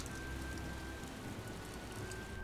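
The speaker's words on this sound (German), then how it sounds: "Also Regen machst du mit E und Q." Steady rain from a spell cast in the video game Magicka, a continuous soft hiss of falling drops at low volume with no voices over it.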